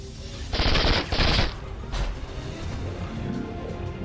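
Rapid automatic gunfire in XCOM 2 Long War 2 erupts in two loud bursts of about half a second each, then a single sharp shot follows over low battlefield ambience, with no talking.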